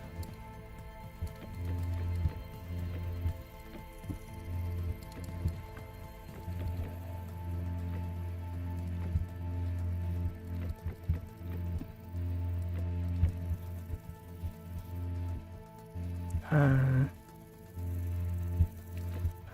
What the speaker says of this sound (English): when it's raining, we can't do anything about that